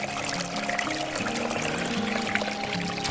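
Water trickles and runs beneath winter snow in a steady, soft, continuous flow, heard close and alone.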